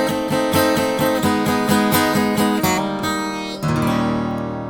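An electric or amplified guitar plays a blues lick in E as a quick run of bright, ringing plucked notes, then settles on a sustained final chord that rings out alone.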